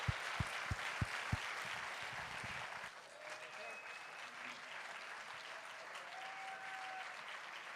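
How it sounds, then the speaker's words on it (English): Theater audience at a storytelling event claps for the tellers, a few sharp near claps at first, then soft, distant, sustained applause with faint whistles and murmurs. "How about a huge round of applause for every single one of those tellers you just saw tonight?"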